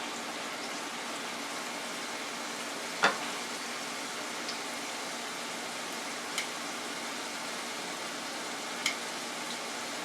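Onions and peppers fry in an oil-filled fryer, giving a steady close sizzle with a few brief clinks.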